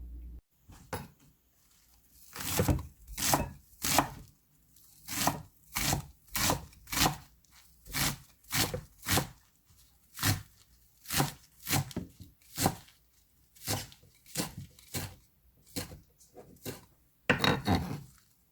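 Red chili and green onions are chopped with a knife on a board, giving a steady run of sharp, close chops in quick bursts with short pauses between, about two dozen strokes in all.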